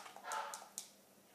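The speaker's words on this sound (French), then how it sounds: "c'est mon chien qui m'appelle, qui aboie" A pet dog barks somewhere off in another room, a few faint, short yips and barks spaced out over a quiet indoor background.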